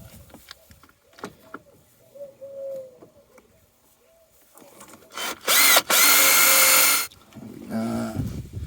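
A power drill bores stitching holes into a cracked Dodge Dart undertray, a loud steady whine of about a second standing out after quieter handling noises, with short bursts of the tool around it.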